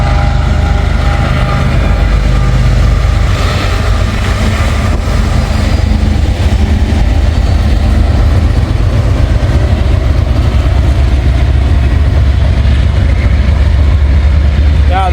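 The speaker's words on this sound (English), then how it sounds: "we got M506 right here coming up the line" CSX freight train M506 rolling up the line, a steady loud low engine rumble with continuous rail and wheel noise throughout, close by and unbroken, a second Norfolk Southern train following behind.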